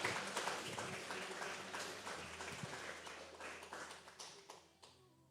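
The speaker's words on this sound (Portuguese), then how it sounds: "Você pode aplaudir ao Senhor." A church congregation claps during a worship service, a quiet, somewhat distant patter of many hands that slowly fades toward the end.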